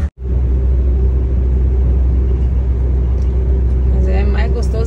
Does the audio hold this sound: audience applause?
no